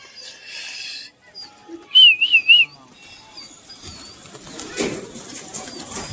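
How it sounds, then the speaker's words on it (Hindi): Someone whistles a quick warbling call to pigeons at a Kanpur gola pigeon flying contest, three loud bright bursts in a row, followed by rustling, wing flutter and a low outdoor murmur. "सीटी बजा रहे हैं।"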